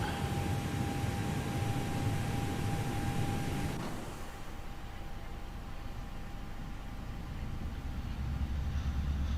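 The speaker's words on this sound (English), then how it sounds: "I'll go ahead and get engine number 2 fired up." Airbus A321neo engine number 2 spooling up in the X-Plane 11 flight simulator, a steady broadband jet roar with a thin whine that drops back to a quieter hum partway through.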